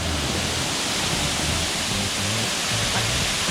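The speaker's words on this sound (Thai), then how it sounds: "มาดูน้ำตกกันดีกว่า" Waterfall at Huai Mae Khamin pours in a steady, dense rushing roar, close and even throughout with no voices.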